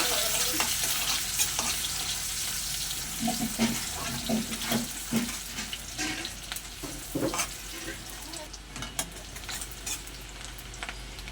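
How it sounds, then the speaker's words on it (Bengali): Chopped onion browning in leftover fish-frying oil for a rohu curry, a continuous close sizzle broken by repeated scraping stirs and clinks of a spatula against the pan, no voices. "পেঁয়াজ একটু লাল লাল করে ভেজে নেব"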